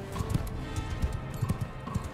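Horse hooves galloping in the Mount & Blade 2 Bannerlord game during a tournament, a steady rapid clip-clop of thudding beats over a busy mix of battle noise.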